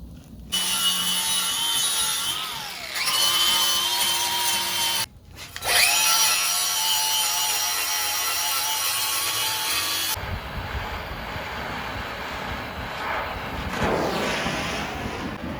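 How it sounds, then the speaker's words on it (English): Forged steel box jaw tongs being filed by hand in a blacksmith shop. Loud, close rasping strokes run almost continuously, with a brief pause midway before the scraping resumes. "we're going to file this area just a little bit"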